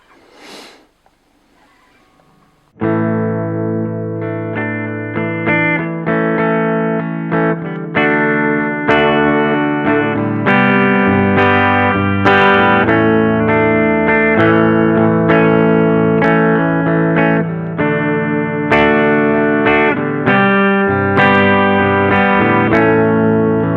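A Sterling by Music Man Majesty MAJ100 electric guitar played on its bridge pickup with heavy distortion rings out loudly in sustained chords and runs, after a quiet few seconds of tuning.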